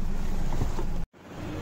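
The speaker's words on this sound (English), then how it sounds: "So this is how the Nissan Magnite 3-cylinder non-turbocharged 72PS engine sounds from the outside." A Nissan Magnite's 3-cylinder non-turbocharged 72PS petrol engine idles with the bonnet open, heard from outside the car. It is a steady, dense whirring hum that drops out briefly about a second in, then resumes.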